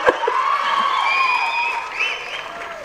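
An audience at a Tamil film audio launch breaks into steady applause with cheering and whistles rising over it, a dense crowd sound that holds for the full few seconds with no speech.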